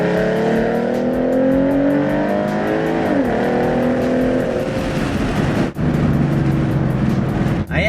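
A Mustang fitted with 3.73 gears pulls hard in second gear at around 30 mph, its engine loud and close and climbing steadily in pitch, with a brief dip partway through before it keeps pulling.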